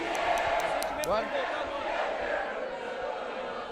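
Grêmio supporters celebrate footballer Luan's return with a loud, steady crowd roar of cheering and chanting, and brief sharp bangs near the start.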